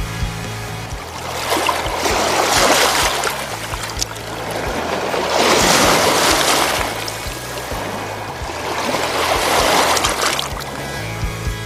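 Waves roll onto the shore of Lake Baikal in three slow, loud surges of washing water, each swelling and fading with steady splashing between them.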